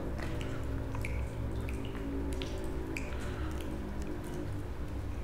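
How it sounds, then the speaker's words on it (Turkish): Water drips inside the Cehennemağzı caves near Karadeniz Ereğli, scattered soft drops landing irregularly over a steady low background hum, with no talking. "Görmüş olduğunuz gibi buradan sular damlıyor."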